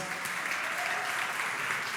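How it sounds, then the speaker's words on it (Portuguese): A church congregation applauds together, a dense, steady wash of clapping that holds at an even level from start to finish with no voices rising above it. "Você pode aplaudir o santo nome do Senhor?"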